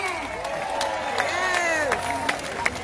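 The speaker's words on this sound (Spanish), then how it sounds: "un aplauso para ustedes" Crowd at an outdoor town food and crafts festival in Coamo, Puerto Rico, cheering and applauding steadily, with whoops rising over continuous clapping throughout.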